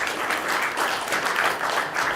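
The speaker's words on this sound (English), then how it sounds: "So please give Diana and Dr. Hank Wu a round of applause." A steady round of applause for two inventors, Diana and Dr. Hank Wu, at a tech conference, dense crowd clapping that holds at an even level without pause.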